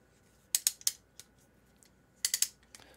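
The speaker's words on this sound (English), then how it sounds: "When you get this, you're going to open it up, and you hear the clicks." Aluminum antenna tripod legs clicking open: two quick bursts of three or four sharp, close metallic clicks separated by a short pause, quiet in between.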